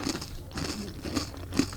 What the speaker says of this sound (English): It's an ASMR chewing show now.